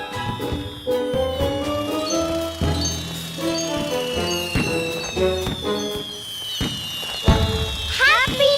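Cartoon fireworks burst again and again at a New Year celebration, a busy run of sharp pops and crackles mixed with whistling, gliding tones and a bright fizzing flourish at the close.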